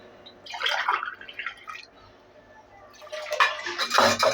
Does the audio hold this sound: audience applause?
no